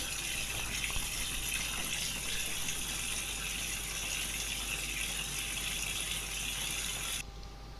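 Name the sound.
washing machine filling with water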